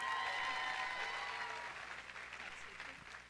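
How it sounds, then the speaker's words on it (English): An audience applauds performers at a drama production's curtain call. The clapping is sustained and moderately loud, with tonal sound and voices mixed in, tapering off slightly over a few seconds. "can we have a huge round of applause for Doc and Marty?"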